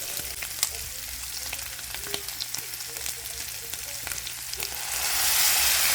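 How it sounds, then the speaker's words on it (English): Sausage and onions sizzle and fry steadily in a pan as apple cider vinegar goes in, a close, continuous crackle with brief scrapes, swelling louder near the end. "I'm going to add the 2 tablespoons of apple cider vinegar in."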